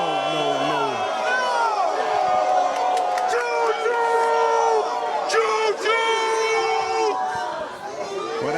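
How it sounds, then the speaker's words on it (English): A bowling alley crowd at a bowling finals event reacts with cheering and whoops over a loud, busy hubbub, while a commentator talks over it. "Well, that's a response from the crowd there."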